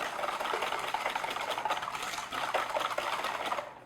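Whisking organic cane sugar in a bowl for a lemon streusel cake, a continuous close rapid clatter and scrape of the whisk against the bowl with no talk.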